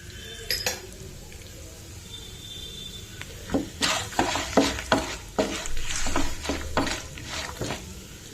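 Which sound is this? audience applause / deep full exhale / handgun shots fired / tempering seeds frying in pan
tempering seeds frying in pan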